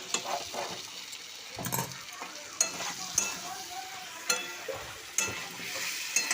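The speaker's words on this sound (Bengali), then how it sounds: "এটা পটল আলু একসাথে দিয়ে ভালো করে মিক্স করে নিচ্ছি" Pointed gourd and potato pieces are stir-fried together in a pan, with repeated spatula scrapes and stirring strokes over a steady sizzle, close and fairly loud, with no talking.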